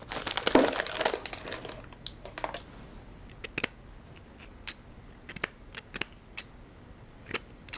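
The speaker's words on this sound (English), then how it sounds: "And now it's cutting straight hair." Curved texturizing shears snipping straight hair, a series of sharp crisp cuts at irregular intervals, close and fairly quiet, alone without talk.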